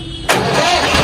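A tractor's diesel engine cranks and catches abruptly, then settles into a loud, steady idle close by.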